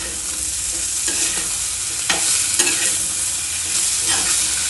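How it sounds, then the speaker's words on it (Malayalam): Ketchup being mixed into a saucy cauliflower masala in a pan, a few brisk spoon strokes scraping and squelching over a steady low sizzle, close and clear, without voices. "കെച്ചപ്പ് നമുക്കൊരു 3 ടേബിൾ സ്പൂൺ ആഡ് ചെയ്ത് കൊടുക്കാം. എന്നിട്ട് നല്ലോണം മിക്സ് ചെയ്യാം."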